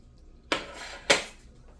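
A ladle serves beef stew from a pot into a bowl, two quick close bursts of wet scraping and splashing about half a second apart, with near silence around them.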